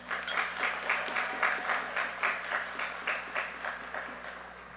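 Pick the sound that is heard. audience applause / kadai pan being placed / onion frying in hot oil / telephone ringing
audience applause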